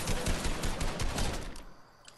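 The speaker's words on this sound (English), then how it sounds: "Oh, someone's shooting at me." Rapid automatic gunfire from a Fortnite match rattles in a dense, fast burst that fades out near the end, loud and alone with no talk over it.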